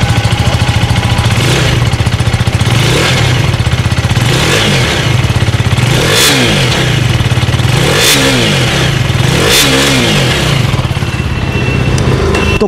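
A 2024 Husqvarna Vitpilen 250 motorcycle engine idles loudly up close through its underbelly exhaust, then revs sharply several times, each burst rising and falling with a deep, throaty exhaust rumble.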